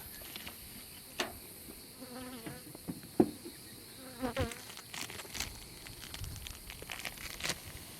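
Honey bees buzz around an open hive while its frames are checked during honey harvesting, a steady insect drone with individual bees zipping close past the listener and a few light taps and knocks.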